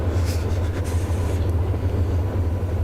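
Steady low rumble and rolling drone of a freight train of empty grain cars climbing a grade in a train simulator game, moving continuously, with faint higher hissing bursts early on.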